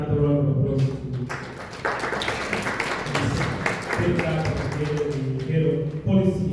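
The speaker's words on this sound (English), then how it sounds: "Let's give another round of applause to" Audience applause at a public debate on constitutional amendments in Lusaka, Zambia: a roomful of people clapping steadily, with speech heard at the start and again as the clapping fades.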